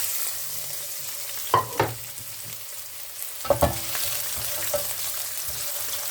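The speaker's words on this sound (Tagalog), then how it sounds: "Halo-haloin ko para maluto siya kaagad" Onions fry and are stirred in a pan for spaghetti bolognese, with a steady sizzle and two pairs of spatula scrapes and knocks against the pan, close and moderately loud.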